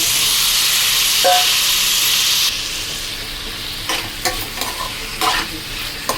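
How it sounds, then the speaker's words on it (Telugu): Chicken frying in a pan over high flame gives a loud, continuous sizzle up close, easing slightly partway through as spoon stirring scrapes and clatters in short bursts. "దీన్ని ఒక టూ త్రీ మినిట్స్ బాగా హై ఫ్లేమ్లో పెట్టుకొని మంటను వేయించుకోవాలండి"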